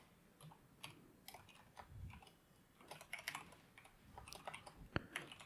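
Keys clatter on a mechanical keyboard during programming work, with quick irregular bursts of clicky strokes and one sharp louder tap near the end, close-up and fairly quiet with no talking.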